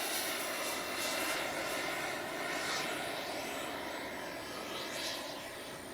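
A Freewing 80mm F9F-8 Cougar RC jet roars steadily with a broad, even, fairly faint engine rush during takeoff, heard alone outdoors with no voices.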